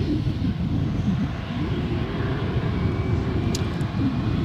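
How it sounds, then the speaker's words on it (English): A Jetstar airliner departing Adelaide Airport, its engines giving a steady, loud roar that holds evenly throughout with wind-like broadband noise, no voices. "Jetstar making its way out now."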